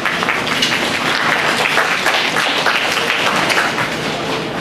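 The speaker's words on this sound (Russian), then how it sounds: "Давай, Микола Миколаевич, ваши аплодисменты." An audience at an agricultural field day bursts into sustained applause, many hands clapping steadily and fairly close for several seconds.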